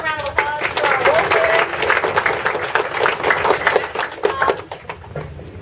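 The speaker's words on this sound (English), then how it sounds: "Let's give a round of applause to our role" An audience at a talk on grief and disability applauds the role players, steady moderate clapping with some voices and cheers mixed in, thinning toward the end.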